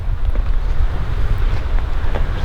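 Wind gusting at a lakeside campsite in Woodland Caribou Provincial Park, a loud, close low rumble buffeting the microphone with no voices.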